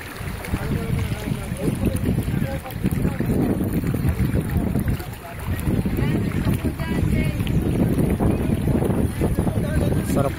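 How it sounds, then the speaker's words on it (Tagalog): Strong current of the Agos River rushing past in Infanta, Quezon, a steady close roar of water with wind buffeting the microphone and people talking over it throughout. "Ang lakas ng agos ng tubig guys."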